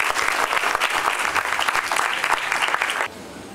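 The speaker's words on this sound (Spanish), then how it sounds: "La recibimos con un fuerte aplauso" Audience applause at the opening ceremony of the 35th Ricardo Palma Book Fair in Miraflores: a dense, fairly loud burst of clapping from a crowd that carries steadily for about three seconds and then cuts off abruptly.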